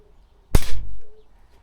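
A single sharp shot from a spring air rifle firing an H&N Excite Hammerhead pellet, a loud close crack with a brief ringing tail and a soft thud afterward, heard alone in quiet surroundings.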